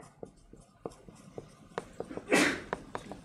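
One sneeze in a lecture hall, a short burst in the middle of scattered tapping and shuffling noises, fairly faint and heard without talking over it.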